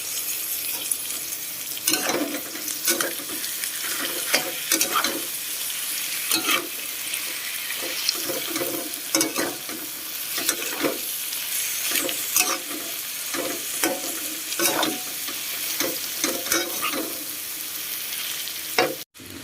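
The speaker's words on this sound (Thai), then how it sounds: "ผัดมะระใส่ไข่นะจ๊ะดีแล้ว" Bitter melon, egg and chili are stir-fried in a pan, with a continuous close sizzle broken by frequent scraping and clattering stirring strokes.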